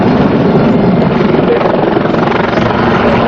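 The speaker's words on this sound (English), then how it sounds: "Really expensive helicopters." A loud, steady helicopter drone with rhythmic rotor chop at the Farnborough Airshow 2014, sustained and close throughout the short stretch.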